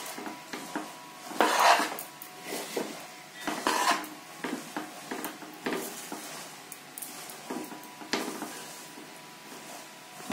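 Puffed rice being stirred into melted jaggery in a pan, with irregular scraping, rustling and clinks of a spoon against the metal, fairly quiet and close.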